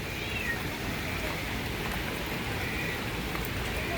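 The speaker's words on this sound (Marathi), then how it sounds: "सो असा पाऊस आहे आमच्या इथे, कंटिन्यू चालू आहे आज." Heavy monsoon rain falling on a terrace, a constant soft hiss of drops that stays even and fairly faint with no breaks, heard from nearby.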